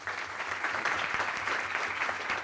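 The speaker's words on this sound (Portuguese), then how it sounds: "já dar uma salva de palmas ao professor" A seminar audience applauds a departing law professor with steady, even clapping that fills the whole short stretch at a moderate distance, with no voices over it.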